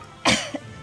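A single short cough, close and clear, followed by a tiny throaty catch.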